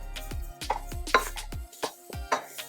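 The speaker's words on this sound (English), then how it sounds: "give that a stir" Flour, sugar and salt being stirred in a mixing bowl for Caribbean sweet bread: a series of sharp, irregular clacks and knocks of a utensil against the bowl, close and distinct, with no talking.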